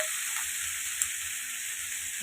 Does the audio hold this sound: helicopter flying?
no